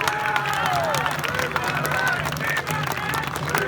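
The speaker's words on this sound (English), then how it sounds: "a big round of applause, please" Applause for Saxon and Viking reenactment warriors of Regia Anglorum at an outdoor living-history display, steady crowd clapping with scattered cheers and voices throughout, some whistle-like tones above.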